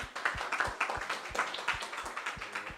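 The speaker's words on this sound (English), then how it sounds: "a big clap to every speaker" Conference audience clapping for the speakers at the close of a workshop session, a steady patter of many hands of moderate loudness with no voices over it.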